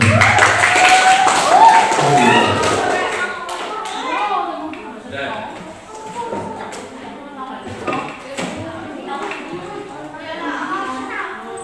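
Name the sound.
children clapping hands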